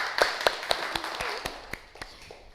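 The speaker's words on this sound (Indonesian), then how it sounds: "Oke, tepuk tangan." A classroom group claps hands in brief applause, a string of sharp, separate claps at a moderate pace that fades toward the end, fairly quiet and with no talk.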